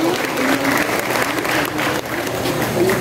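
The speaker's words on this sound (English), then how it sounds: "Let's give him a round of applause, please." Steady, loud applause fills a high school assembly hall for the school principal, with sustained crowd clapping continuing throughout without pause.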